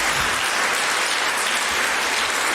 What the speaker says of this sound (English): I believe these coaches deserve a round of applause.